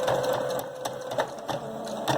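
A sewing machine stitches bias binding onto fabric at a mitred corner, a close, fast mechanical rattle of the needle running steadily with brief rhythmic pulses and no speech.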